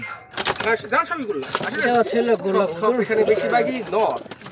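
Small pigeons kept in a seller's coop coo in repeated rolling calls close by, mixed in with someone talking throughout.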